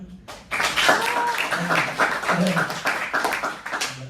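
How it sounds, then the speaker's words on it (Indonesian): A student audience claps at a public speaking session on stand-up comedy, with bursts of scattered, uneven clapping that are mixed with voices and laughter throughout. "boleh tepuk tangan teman-teman"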